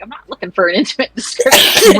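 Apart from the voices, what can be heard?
sneeze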